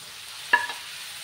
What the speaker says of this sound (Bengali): এবার আমি বেগুনগুলো দিয়ে দেব